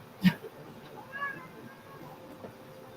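A hot, annoyed cat gives a short sharp meow right after its paw is kissed, loud and close, followed by a fainter complaining sound over quiet room tone.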